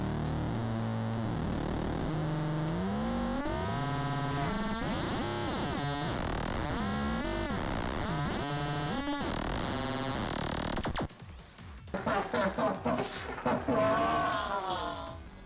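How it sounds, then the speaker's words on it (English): Synthesizer oscillator modulated by a second oscillator produces warbling, sweeping pitch glides and shifting harmonics, loud and continuous, turning into harsh noisy bursts toward the end. "what I'm going to do with this one is I'm going to drive a second oscillator into it,"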